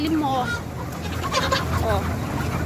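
Chickens cluck and squawk close by inside a poultry house, several short calls rising over a constant barn hum.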